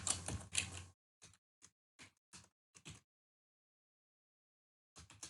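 Someone types a code on a computer keyboard, with a quick burst of clicks, then several separate key taps spaced a fraction of a second apart, a pause, and a final tap, all close and quiet.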